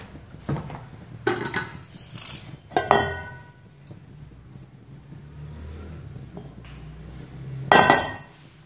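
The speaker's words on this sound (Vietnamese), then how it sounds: "Mình cho chảo lên bếp này." Frying pan set onto a kitchen stove, several sharp metallic clinks and knocks spaced unevenly, close and fairly loud, with a quieter rumble between them.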